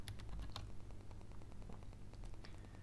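Rapid keystrokes on a computer keyboard while a device name is entered into setup software, a close, uneven patter of light clicks over faint background hiss.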